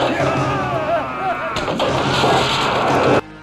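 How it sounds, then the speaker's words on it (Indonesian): Gunfire in a vampire film, where police fire at a vampire with calcium sulfate. Loud, dense blasts and crashing impacts mix with a film soundtrack and voices, then cut off sharply at the end. "menembakkan vampir dengan kalsium sulfat"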